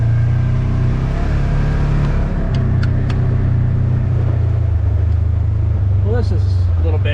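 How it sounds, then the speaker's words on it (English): An off-road vehicle's engine throttles and rumbles through a rough trail on the Arizona Peace Trail, a loud, close, sustained roar with rising revs and faint voices near the end. "You throttle through it."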